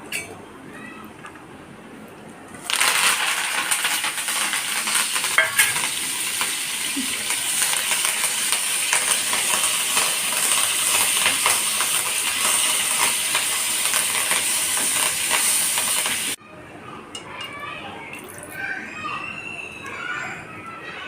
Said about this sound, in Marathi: आता मी कढीपत्ता तळून टाकते तर आता मी टाकणार आहे कढीपत्ता